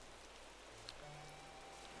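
Steady rain falling in Animal Crossing New Horizons, a soft continuous hiss of drops with faint low background tones running underneath throughout.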